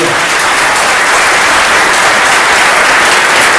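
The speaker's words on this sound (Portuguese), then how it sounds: "Vamos aplaudir a Jesus" Loud, dense applause from a large church congregation, sustained and even for a few seconds with no pauses.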